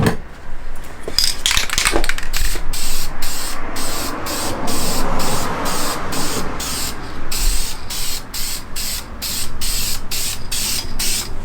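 Clear coat sprayed from a spray gun onto car parts during an SR20DET swap build, a steady loud hiss lasting throughout with rhythmic pulsing breaks, close up.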